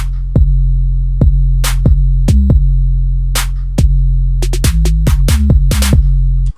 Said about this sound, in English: You can just hear it's just got a bit of snare, 2 different snares just doing random crazy things.